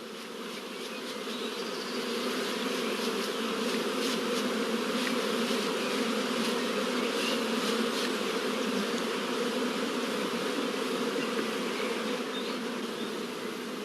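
Honeybees buzz around a hive frame lifted from a nursery colony, a dense, steady droning hum from many bees close by, continuous and even throughout with no voices.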